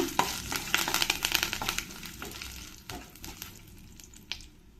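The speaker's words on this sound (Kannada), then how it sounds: "ಹಾಗೆಯೇ ಒಂದು ಸ್ಪೂನಷ್ಟು ಜೀರಿಗೆ ಕೂಡ ಸೇರಿಸ್ಕೊಳ್ತಾ ಇದ್ದೀನಿ ಅದರ ಜೊತೆಗೇ ಸ್ವಲ್ಪ ಕರಿಬೇವಿನ ಸೊಪ್ಪು ಒಂದು ನಿಮಿಷ ಇನ್ನು ಸ್ವಲ್ಪ ಫ್ರೈ ಮಾಡ್ಕೊಳ್ಳೋಣ" Black pepper, cumin seeds and curry leaves fry in a pan, a crackling sizzle with spoon scrapes that is busy at first and then thins out and quietens.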